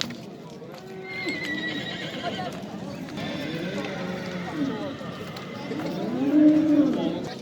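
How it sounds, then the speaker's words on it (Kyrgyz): A black horse being sold at a livestock market in Nookat neighs and whinnies while hooves clip-clop nearby, with people talking in the background and other farm animals audible. "кара ат, чакчаңдаган ат экен, универсал ат"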